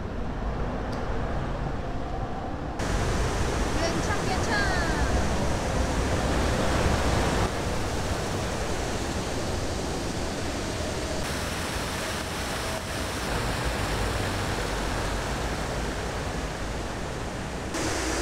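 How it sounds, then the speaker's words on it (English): Steady broadband rush of a waterfall in central Seoul near City Hall and Gwanghwamun, loud and continuous throughout with no pauses and no talking over it. "here. Waterfall."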